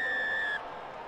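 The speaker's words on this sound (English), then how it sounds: "Whistle goes." A sharp, steady referee's whistle blast signals the kick-off in the rugby video game Rugby Challenge 3, lasting about half a second over faint crowd ambience before cutting off.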